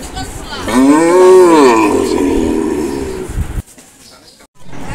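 A cow lets out one long, loud moo close by, followed by a short pause and faint rustling.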